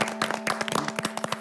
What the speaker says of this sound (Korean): 박수를 청해 듣겠습니다.